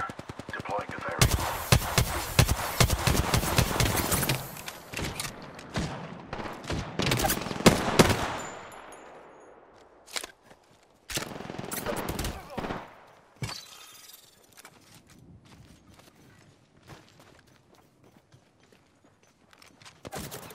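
Dense gunfire in Apex Legends: loud rapid automatic bursts and single shots crowd the first half, then scattered shots and footsteps follow more faintly.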